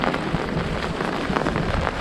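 Steady, dense typhoon rain pours down continuously in Occidental Mindoro, Philippines, a loud hissing wash with scattered heavier drops and no voices.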